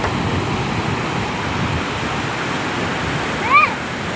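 A village waterfall in Odisha, swollen after two days of rain, gives a constant loud rushing roar throughout, with a brief high chirp near the end.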